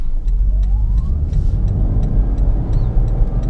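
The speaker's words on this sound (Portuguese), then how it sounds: "Vamos lá, vou tirar o pé do freio e acelerar." Engine and road noise from a 2017 Toyota Prius hybrid accelerating at full throttle from a standstill, a steady loud drone with a faint rising whine, heard from inside the car.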